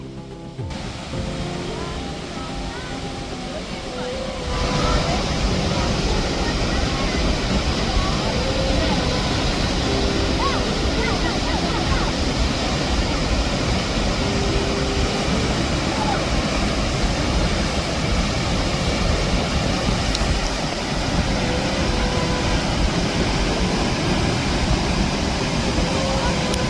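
Månafossen waterfall in Norway roars as a steady, loud rush of falling water, heard up close and continuous throughout, with the noise growing even heavier after the first few seconds.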